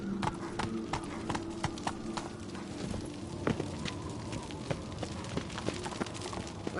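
Geralt's horse Roach in the video game Witcher 3, hooves clip-clopping in a steady trotting rhythm, close and continuous over a low background hum.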